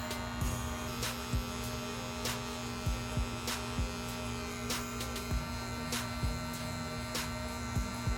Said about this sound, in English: To cut in this area, we are using the border of the clipper's blade.